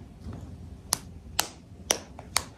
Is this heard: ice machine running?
no